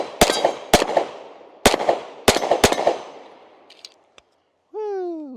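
Nighthawk Blackhawk pistol with a 20-round magazine fired from a holster: several sharp, loud close shots in quick uneven succession, ringing out and fading, followed by a brief tonal sound.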